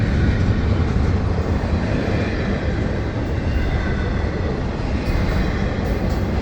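A freight rock train of loaded rock cars rolls past on the railroad at Magnolia with a continuous loud, close rumble and rail roar that holds steady throughout.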